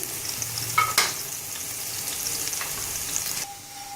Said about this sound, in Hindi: इसमें मैंने 2 मीडियम साइज प्याज डाल दी है, जिसको हम इसको ज़रा सा टोस्ट करेंगे।